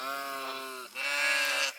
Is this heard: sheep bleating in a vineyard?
yes